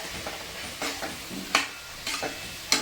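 Bottle gourd mixed with spice paste cooking in a pan for parathas, giving a soft steady sizzle with a few light stirring scrapes, close and quiet.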